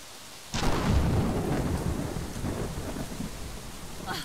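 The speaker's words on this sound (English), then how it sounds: "And in the middle of a storm" A thunderstorm in the video game Brothers: a loud thunder crack bursts in after a half-second of quieter rain, then a heavy rumble and steady downpour carry on alone.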